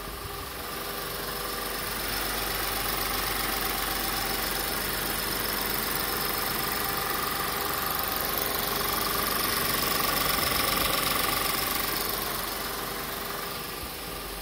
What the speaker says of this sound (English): The car is running now, and it's running ideally.